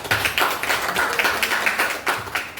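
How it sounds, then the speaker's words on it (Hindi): Enthusiastic applause from an audience at an IMC team gathering, dense rapid clapping close by with sharp individual claps standing out, steady and unbroken, no talk over it. "एक जोरदार ताली होनी चाहिए आप सभी के लिए"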